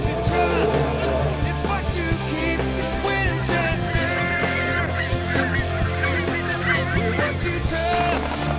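Dense chorus of geese honking loudly and continuously at a waterfowl hunting blind in Idaho, overlapping calls from many birds filling the air.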